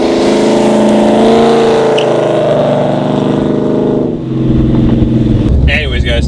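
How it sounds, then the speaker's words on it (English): Loud, steady engine drone from a 2004 Ford Mustang GT V8 fitted with BBK long-tube headers, BBK X-pipe and a Magnaflow axle-back exhaust, idling and revving continuously with a brief dip near the end. "It's got a BBK long tube headers, BBK X pipe, and then a Magnaflow something axle back."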